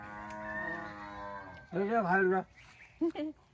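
A cow lows in a long, drawn-out moo, followed by a shorter bellow and a brief final grunt, close and clear against quiet surroundings.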